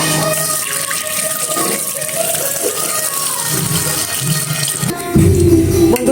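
Tap water running in a kitchen while steamed liver is washed, a continuous close splashing gush that gets fuller and louder near the end.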